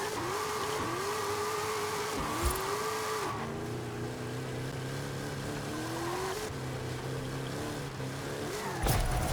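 A Ford F450 truck drifts in the Forza Horizon 5 racing game, its engine revving and wavering in pitch as the throttle rises and falls, loud and continuous with a brief drop and a short burst near the end.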